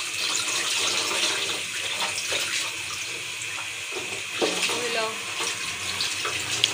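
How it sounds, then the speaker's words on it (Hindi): Tap water runs steadily into a sink as raw chicken is washed, a constant close splashing hiss with occasional light clatter. "यहाँ पे ये चिकन धुल रहा है"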